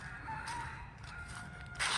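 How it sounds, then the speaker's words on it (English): A rooster crows faintly in the distance, joined by soft clucking chickens from next door, in an otherwise quiet cemetery in Pasco County, Florida. "You can hear the chickens next door."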